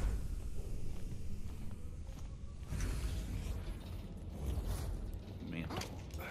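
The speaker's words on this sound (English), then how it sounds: "Don't make creaky noises at me." Creaking mechanisms in the sci-fi horror game The Callisto Protocol give off continuous metallic groans, grinding, and ratcheting over a low rumbling ambience, with occasional whooshing swells.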